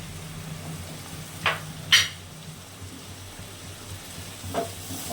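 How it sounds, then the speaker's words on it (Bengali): Ground Kashmiri chili, turmeric, cumin and salt cooking with a splash of water in a pan, a quiet continuous sizzle with two or three light utensil taps. "এই গুঁড়ো মশলাটা কাশ্মীর লঙ্কার গুঁড়ো হলুদ জিরে আর পরিমাণ মতো লবণ একসাথে দিয়ে দিলাম একটু জল দিয়ে কষিয়ে নেব"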